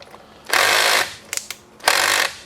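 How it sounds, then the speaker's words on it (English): A power driver whirs in two long bursts, with brief ratcheting clicks between them, while screws are backed out of the top of an RC car servo saver, close and loud. "We're going to start off by removing the 4 screws on the top"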